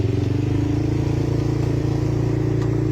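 A vehicle engine just started on jumper cables from a motorcycle battery, running at a loud, steady idle with an even rapid pulsing throb and a faint rattle, close by and with no talk.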